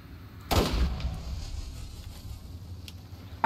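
Gunfire in the video game Borderlands: one sharp shot bursts out with a decaying rumble, followed by faint clicks and a second sharp hit at the end, no talk.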